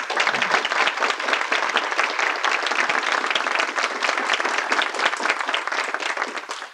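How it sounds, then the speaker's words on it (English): A university lecture audience applauds honorees with dense, sustained clapping from a large crowd, loud and even throughout before tapering off at the end. "please join me in a round of applause"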